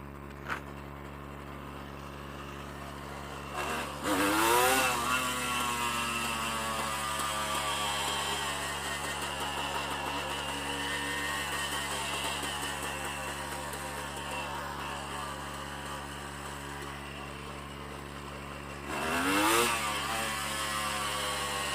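A Honda CRM 250 AR two-stroke dirt bike runs loud and close, holding a steady buzzing drone with revving surges near the start and again near the end.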